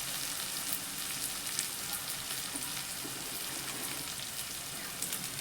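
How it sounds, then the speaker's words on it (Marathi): Chopped onion with salt fries in a pan for roasted eggplant mash, giving a steady, even sizzle with faint crackles and the occasional stir, close and without any talk. "कांदा आपल्याला चांगला परतून घ्यायचा आहे. त्यातच मी चवीनुसार मीठ टाकून घेते बघा."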